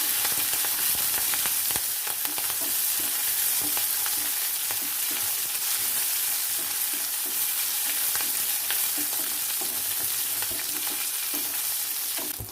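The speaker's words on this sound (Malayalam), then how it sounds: "കുറച്ച് കറിവേപ്പിലയും കൂടി ഞാൻ ഈ സമയത്ത് ചേർത്ത് കൊടുക്കുകയാണ് കേട്ടോ അതും കൂടി നമുക്ക് നന്നായിട്ടൊന്ന് മൂപ്പിച്ചെടുക്കാം" Green chillies and curry leaves frying in hot oil and being stirred in a pan for a Kerala lemon curry, a loud continuous sizzle with scraping stir strokes throughout, no talking.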